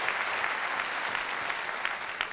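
A squash crowd bursts into steady, close applause after a long straight drop shot in a professional PSA Tour match, a dense clapping wash lasting throughout without speech.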